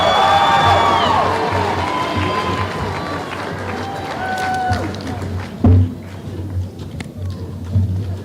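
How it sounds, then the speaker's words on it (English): A large crowd cheers graduating seniors at a graduation ceremony, with a sustained roar of whoops and shouts that slowly fades, while voices speak amid the noise. "One more round of applause for our seniors."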